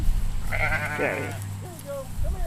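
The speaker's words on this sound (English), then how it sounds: "that's the sound of a sheep trying to get fresh with me" A single sheep gives a wavering, drawn-out bleat at mid distance over a low rumbling background. A person speaks briefly before and after it.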